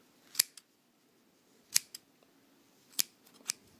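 Sharp scissor snips cut through crochet yarn loops, four quick close cuts spaced apart by quiet pauses, a couple with a faint second click.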